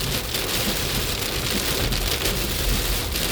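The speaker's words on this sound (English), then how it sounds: "this is safe driving in the rain" Heavy rain drums steadily and loudly on a car while driving, a dense unbroken hiss and patter with no pauses or voices.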